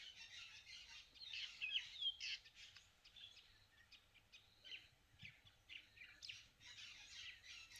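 Birds chirp and tweet in scattered, overlapping calls, faint and somewhat distant, over a quiet low hum.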